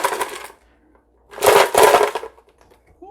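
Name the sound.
ice cubes being put into a Ninja blender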